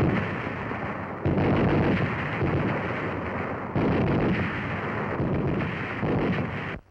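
A pair of belt-fed, recoil-operated, air-cooled Browning M1919A4 machine guns firing in sustained loud bursts, a dense roaring rattle that briefly breaks and resumes several times.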